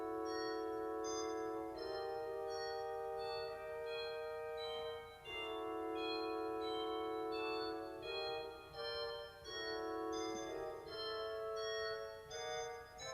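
Recorded organ piece Les Bergers (The Shepherds) from Messiaen's La Nativité du Seigneur: sustained tones with a shifting, wandering upper line, soft and distant with a hazy, reverberant backdrop.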